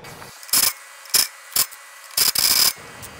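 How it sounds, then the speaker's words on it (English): A car jack raises a car in a series of sharp, close ratcheting clicks and bursts, five uneven strokes separated by short pauses. "also jack up your car if you guys need to"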